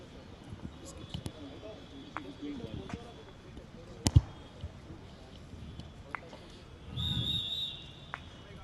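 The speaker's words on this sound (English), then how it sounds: "now the whistle has been blown." A referee's whistle blows during a polo match at the Manipur Polo International: one short, thin, high blast, heard distantly over a murmuring outdoor crowd, with scattered knocks before it.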